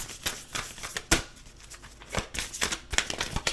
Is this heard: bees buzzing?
no